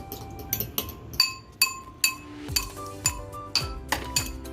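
An egg is stirred in a bowl, producing rapid, regular clinks and taps of a utensil against the bowl, about ten sharp ringing strikes close up with no talk.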